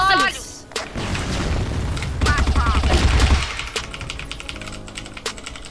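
Rapid bursts of video game gunfire crackle loudly through a busy ranked-match soundscape, with voices talking over the shots and a faint high electronic whine throughout.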